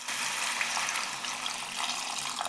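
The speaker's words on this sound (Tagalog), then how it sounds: "Nagbuhos ako ng tubig." Water pours steadily into a pot, a close, continuous splashing rush that keeps going without a break.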